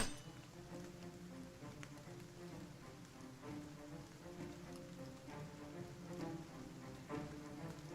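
Steady rain falls in the Battle Brothers video game, a dense, even hiss of drops with faint clinks, continuous and moderately soft with no voices.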